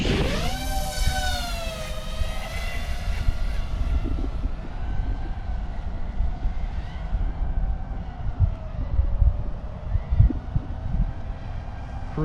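iFlight Nazgul Evoque F6D FPV drone launching and flying, its motors giving a loud, steady whine that sweeps up in pitch at takeoff, then settles into a continuous buzzing drone over rushing wind noise.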